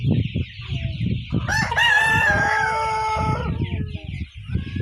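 Roosters at a farm selling original Bahama cockerels crow loudly and close, one long drawn-out crow over a bed of clucking and scattered calls.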